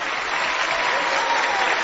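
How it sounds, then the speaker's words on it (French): Steady, dense applause from a crowd, filling the whole moment at an even loudness without a break and with no voices standing out. "Allez-y, mes amis, applaudissez! Applaudissez fort!"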